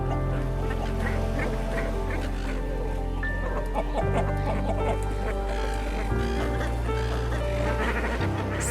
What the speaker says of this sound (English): These black-faced cormorants also raise their young on the rocks